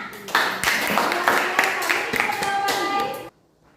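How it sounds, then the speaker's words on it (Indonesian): A classroom of students clapping together, a brief burst of fairly close hand claps with a few voices mixed in, stopping abruptly near the end. "Oke, tepuk tangan."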